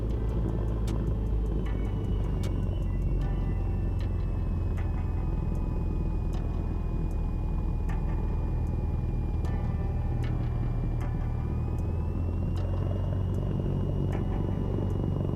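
Cessna light aircraft engine at full power during takeoff on runway 28, a steady loud continuous drone with heavy low rumble throughout, constant and close, no talking over it.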